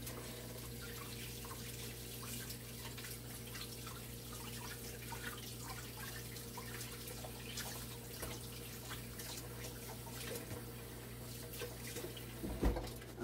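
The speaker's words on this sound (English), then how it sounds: "Let me just wash my hands." Tap water runs steadily into a kitchen sink as hands are washed during Jamaican beef patty making, a soft continuous splashing hiss with faint drips and no talk.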